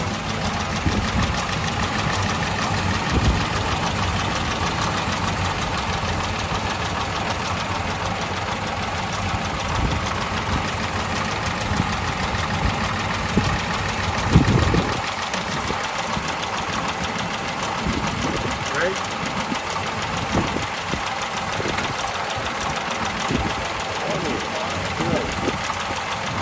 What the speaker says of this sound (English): This is a Roosevelt, Marmon Roosevelt straight 8 engine.